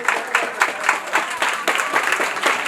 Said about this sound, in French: ça s'applaudit effectivement.